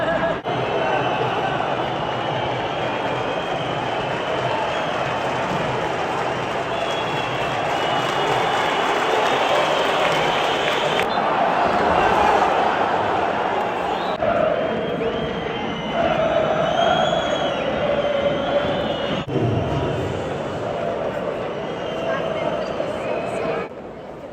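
Football derby crowd in a Portuguese stadium roaring steadily for the whole stretch, a dense, loud wash of cheering, shouting and clapping with surges of excitement, and voices talking underneath.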